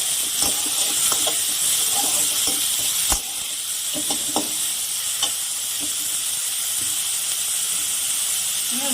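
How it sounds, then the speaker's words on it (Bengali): Onion and chopped green chillies fry in a pan with a steady, close sizzle and hiss, broken by the scrape and tap of a spoon stirring now and then. "পেঁয়াজটা একটু আমি লাল করে ভেজে নেব, হালকা লাল করে।"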